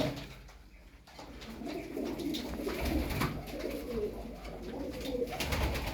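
Domestic tumbler pigeons in a loft cooing softly and repeatedly, a low throaty murmur against faint background noise, no talk.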